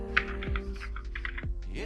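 Keys clicking on a computer keyboard while Visual Basic code is typed, a brief run of quick, irregular taps under a steady low hum and some faint tonal background.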